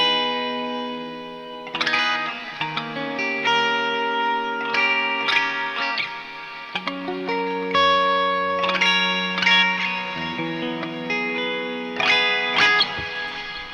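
Electric guitar played through the clean channel of the STL Tonality Andy James amp 3, ringing chords and arpeggiated notes with a crystalline shimmer, reverb and echo trailing each phrase.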